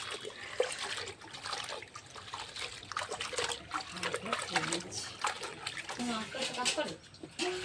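Lau shak, bottle gourd leaves, being washed by hand in a bucket of water: steady splashing and trickling close by, with voices talking over it.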